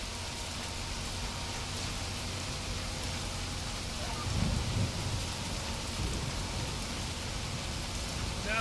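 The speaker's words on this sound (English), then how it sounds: "Now it's raining." Steady rain hisses down in a constant wash of noise, with a low rumble of what may be distant thunder swelling briefly midway; no speech is heard.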